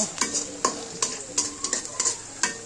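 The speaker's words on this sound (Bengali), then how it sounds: "পেঁয়াজ লাল করতেছি" Onions frying in a pan, stirred with a utensil: a steady sizzle broken by several sharp scraping stirs at an uneven rhythm, close and fairly loud, with no talking.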